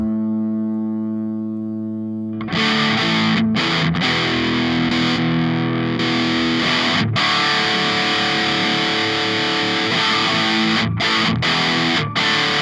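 A clean, sustained chord rings out on a Mooer GTRS P800 electric guitar before D-Drive boosted, heavily overdriven, saturated chords take over, loud and thick with brief stops between strums.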